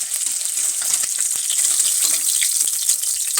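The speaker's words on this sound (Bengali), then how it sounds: "মাছগুলো ভাজা হয়ে গেছে," Parshe fish frying in hot oil, a steady bright crackling sizzle with small pops running throughout, close and fairly loud, with no talking.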